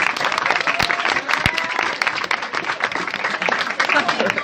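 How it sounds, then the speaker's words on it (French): A French television studio audience claps steadily throughout, a dense patter of applause from a crowd while a person speaks over it. "on va les applaudir bien fort"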